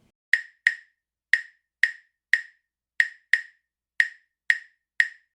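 Clave sticks knock out a 2-3 clave rhythm, two strikes followed by three, repeated twice. The clicks are sharp, dry and close, with no other sound behind them.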